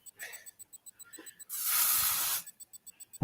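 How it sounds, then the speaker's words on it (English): An air freshener is sprayed in one sustained hissing burst of about a second to chase a cat down, loud and close, set between softer rhythmic background sounds. "Spray the air freshener, cat gets down."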